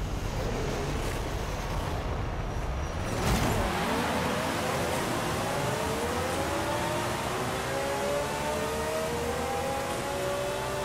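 Jaguar XJ13 race car in Forza Horizon 5 accelerating hard in fourth gear, a loud continuous engine whine rising steadily in pitch, close and alone.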